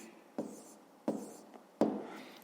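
A pen writes a math answer in three short scratching strokes, each a sharp start that fades, spaced about a second apart, close and quiet.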